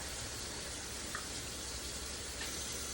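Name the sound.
hot water poured into a pan of fish curry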